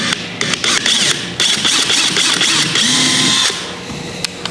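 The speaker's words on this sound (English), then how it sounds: "use that 3/16 inch drill bit to make a pilot hole" A power drill with a 3/16 inch bit whines in short bursts, then runs steadily as it bores a pilot hole through a kayak hull, stopping and restarting close by.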